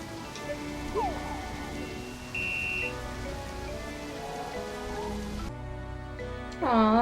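Rain patters steadily on surfaces in the farming game Harvest Moon: Animal Parade, a constant soft hiss under chiming game music and brief tones, with no voices.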